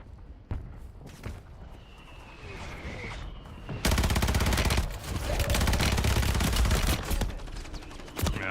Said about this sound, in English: Requesting fire mission. Target marked. Copy your mark. Mortar strike inbound.